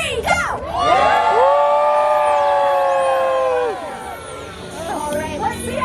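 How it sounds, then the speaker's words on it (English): A crowd at an Elf on the Shelf Christmas event breaks into a loud, sustained cheer on cue, with children shouting and whooping for several seconds before it fades into chatter. "Give me your holliest, jolliest cheer."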